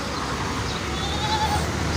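A goat stands among the crowd at a busy bakra mandi livestock market in Pakistan, bleating faintly amid constant dense market noise and chatter.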